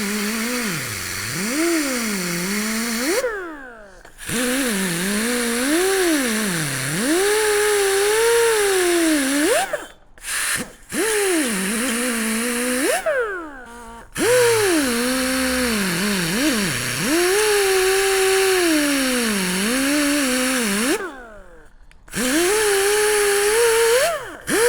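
A power tool whines loudly while cleaning a wheel hub surface for a brake job, its pitch rising and falling under load in long passes separated by brief stops.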